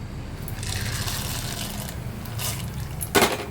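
Chickpeas tipped into hot frying oil for homemade Kerala mixture, giving a sizzling hiss with a sharp clatter of pan and spoon near the end, with no one talking.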